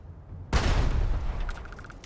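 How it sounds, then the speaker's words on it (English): A heavy explosion bursts in suddenly after a quiet moment in the space role-playing game Starfield, during a firefight with grenades being thrown, its loud rumbling blast followed by a quick rattle of gunfire. "Who the hell is throwing grenades?"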